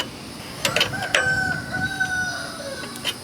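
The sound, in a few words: chickens clucking and crowing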